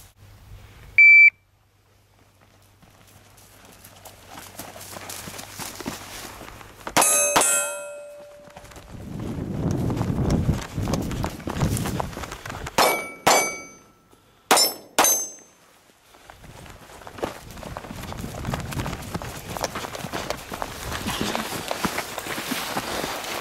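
Shots from a Glock 26 pocket 9mm pistol ring out at steel targets on an outdoor range, with a sharp report near seven seconds followed by several quick bursts with metallic clangs, between shuffling movement and background noise.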